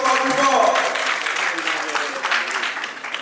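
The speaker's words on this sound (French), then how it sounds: "Applaudissez très fort." A crowd at the Africa Trading Summit 2025 breaks into loud, sustained applause and cheering that fills the room and eases slightly toward the end, with voices mixed into the noise.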